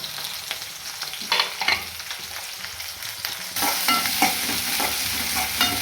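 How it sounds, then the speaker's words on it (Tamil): Onions and tomatoes sauté in a pan with a steady sizzle, stirred by a utensil that scrapes and clatters against the pan. The frying noise grows louder and brighter partway through, close by and unbroken. "இந்த வெங்காயம் தக்காளியெலாம் வதங்குறதுக்கு வந்து கொஞ்சமாக உப்பு போட்டுக்கலாம்"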